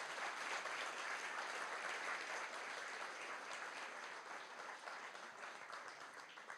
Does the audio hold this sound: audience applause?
yes